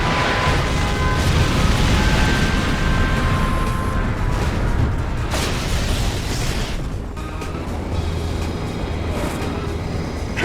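A nuclear missile launches and detonates in the strategy game Yuri's Revenge, with a loud, sustained rumbling roar and crackling blasts that fill the whole stretch without letting up.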